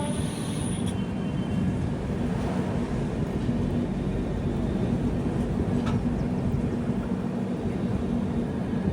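Train running on the line near Simhachalam and Vizianagaram on the Tatanagar Express, heard from inside a 3AC coach as a steady loud low rumble and rattle that continues without a break throughout, with no talking.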